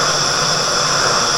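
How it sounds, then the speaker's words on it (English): A high-flying airplane passes far overhead, a broad, steady roar and hiss that fills the whole short stretch without letup. "You hear that plane flying over? That plane's high"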